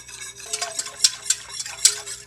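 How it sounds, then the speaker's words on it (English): A spicy tamale mixture is mixed together in a pot, heard as quiet, close scraping and light clinks of a utensil in an uneven rhythm, with no voices. "we're going to kind of mix that together"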